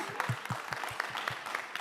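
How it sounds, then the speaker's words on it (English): Scattered applause from a modest audience at a museum collection talk, individual claps distinct and rhythmic rather than a dense roar, moderately close. "Applause."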